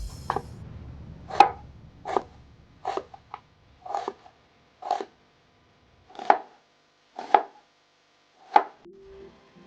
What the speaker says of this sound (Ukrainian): Для овочевої подушки нарізаємо цибулю.